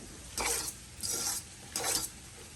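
A tuna egg pasta salad is mixed in a bowl, three short scraping stirs in an even rhythm, close and fairly soft against a quiet background.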